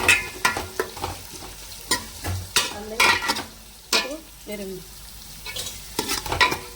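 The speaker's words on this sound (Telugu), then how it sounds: "నూనె కాగేసిందండి. అది చూడండి, పచ్చిమిరకాయలు వేస్తానండి, ఉల్లిపాయలు కూడా వేస్తానండి." Green chillies and sliced onions sizzle in hot oil, broken up by repeated sharp scrapes and clinks of a spoon stirring against the pan, with bursts of frying hiss between them.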